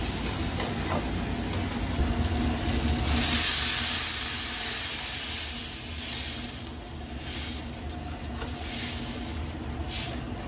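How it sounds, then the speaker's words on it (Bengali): Masala spice paste with tomato frying in a pan for a katla fish curry, a steady close sizzle and hiss that rises briefly in intensity and then settles back to an even crackle. "মশলাটা কষাই।"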